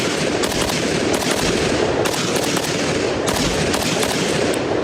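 A Zastava ZPAP M85 rifle fires at an outdoor range at 25 yards, sharp shots cracking in quick bursts with short gaps between strings, loud and near.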